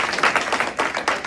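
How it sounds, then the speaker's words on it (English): An audience at a state representative candidate forum in New Hampshire gives a round of applause, a dense crowd clapping with bursts that swell and dip over a brief stretch. "let's give again these candidates a big round of applause"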